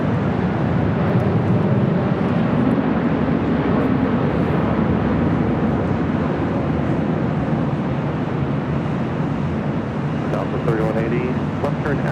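Jet airliners at LAX airport produce a broad, rumbling roar that swells early and then holds steady, with a voice talking faintly near the end.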